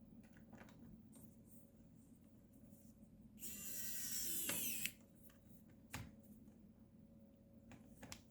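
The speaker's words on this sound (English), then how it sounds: "just unscrew it manually and then press to unscrew it with the power." A Wowstick 1P+ 19-in-1 electric precision screwdriver whirs for about a second and a half while unscrewing, bracketed by faint clicks and small handling taps in a quiet room.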